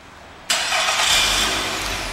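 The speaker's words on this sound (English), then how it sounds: "And the car starts right up." A 2013 Nissan Altima SV starts by remote start, the engine catching abruptly after a quiet moment and settling into a loud, steady close-up idle.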